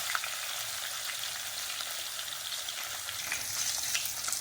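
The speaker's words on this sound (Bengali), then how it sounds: "চার পিস করে দিয়ে ভাজতে হবে আর কি।" Fish pieces frying in hot oil in a pan, a loud, continuous close-up sizzle with light stirring, no voices.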